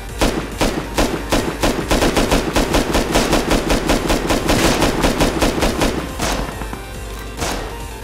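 Automatic gunfire in the modded survival game Rust: a sustained, rapid, evenly spaced burst of shots rattling for about six seconds, then a pause and a couple of further shots.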